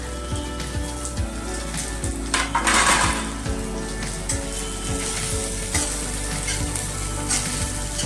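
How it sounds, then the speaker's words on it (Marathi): Garlic and dried red chillies roast in a pan for a curry leaf chutney, a steady crackling sizzle with scattered pops and a brief stirring scrape, close and continuous. "लसणामध्येच आपण दोन चार लाल मिरच्या वेगळी मिरची घेतलेली आहे ती पण भाजून घेऊया"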